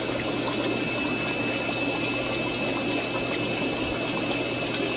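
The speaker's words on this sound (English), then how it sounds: "now I have it doing a water change into this tank for a half hour" Water from an automatic water-change system flows into a fish tank used for breeding Synodontis lucipinnis catfish, giving a steady, even rush with a faint constant pump hum underneath and no talking.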